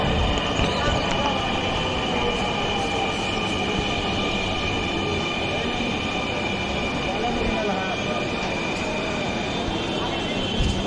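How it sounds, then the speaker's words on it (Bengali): A Dhaka metro train rumbles steadily with a continuous loud roar and high whine, wheels grinding as it slows to a stop at a station, with some voices faintly underneath. "তো মেট্রো রেল আস্তে আস্তে দাঁড়াচ্ছে।"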